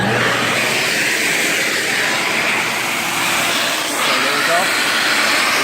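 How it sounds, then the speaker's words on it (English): A powerful 5-horsepower suction vacuum, likened to a shop vac, roars loudly and continuously during cleanup of a GY6 light housing, with someone talking over the steady drone. "So we'll put it in here like this, and we'll turn on our suction again."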